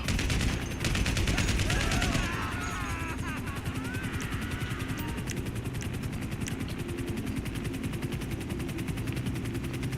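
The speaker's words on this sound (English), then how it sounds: "who is shooting?" Sustained rapid gunfire from GTA 5 Online, Cayo Perico heist gameplay, with dense automatic bursts running throughout at steady loudness, a helicopter-like drone underneath and brief whistling tones early on.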